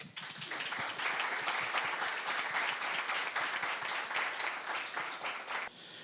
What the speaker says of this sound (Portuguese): a quem eu peço uma salva de palmas.